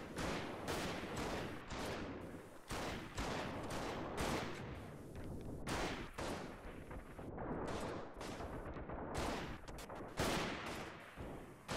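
Dense, continuous gunfire from a large troop battle in the video game Freeman: Guerrilla Warfare, overlapping volleys and bursts cracking without pause, loud and close throughout with no talk.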